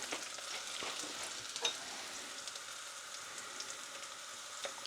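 Crushed garlic cloves hit a hot frying pan and sizzle, a steady close crackling hiss with faint stirring clicks and no talking.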